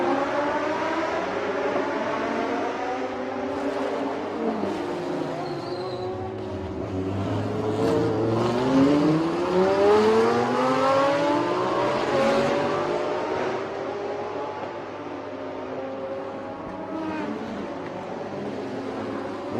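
Race cars in a circuit race at the Bangsaen Grand Prix, including a green Lamborghini, roar past one after another. Loud engines climb and fall in pitch through gear changes and pass-bys, with a steady crowd and track din underneath.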